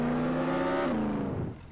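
Car engine in the Roblox Jailbreak video game, a steady loud motor drone that holds pitch and then drops and fades toward the end, with no talk over it.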